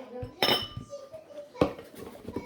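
Kitchen containers, lids and boxes being handled and set down, two sharp clattering knocks with lighter clinks and shuffling between, close by, with a voice talking.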